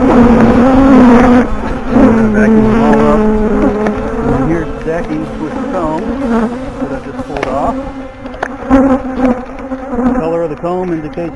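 Loud, dense buzzing of many honeybees in a colony inside a bay window, close by, droning steadily with shifting pitch throughout.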